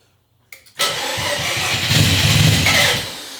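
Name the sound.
rotary car engine cranking to start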